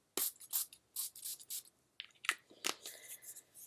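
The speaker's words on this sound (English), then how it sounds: "So I'm just going to prime my face with my NYX primer spray." Several short, quick spritzes of a fine NYX face primer mist spray in bursts, close up and quiet, with pauses between.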